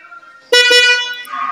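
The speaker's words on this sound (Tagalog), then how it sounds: "Kakabitan ko siya ng busina. Testingin muna natin yung stock." The stock horn of a 2023–2024 Honda CR-V blares loudly in two quick overlapping honks, a steady harmonic tone that fades slightly before a softer tail.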